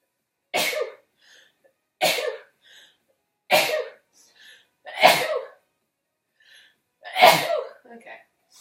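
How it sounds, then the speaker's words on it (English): A person sneezes five times in a row, each burst sharp and close, spaced about one to two seconds apart, with small breaths and sniffs between them. "Oh, I need to sneeze."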